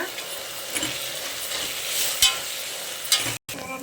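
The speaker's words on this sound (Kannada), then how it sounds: "ಮೆಂತ್ಯ ಸೊಪ್ಪು ಹಾಕ್ತಾ ಇದ್ದೀನಿ. ಮೆಂತ್ಯ ಸೊಪ್ಪು ಸ್ವಲ್ಪ ಬಾಡಿಸ್ಕೊಳ್ಳೋಣ." Fenugreek leaves frying with tomato in a pan for potato gravy, a soft continuous sizzle with occasional scrapes and clicks of stirring, close and steady with no talking.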